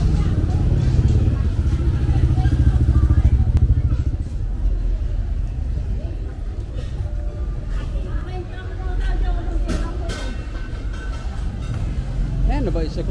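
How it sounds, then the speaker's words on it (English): Busy market bustle in Siem Reap, Cambodia, with motorbikes passing close by, a continuous rumble of traffic under background chatter and crowd noise. "Oh yeah, gotta watch out for the motorbikes."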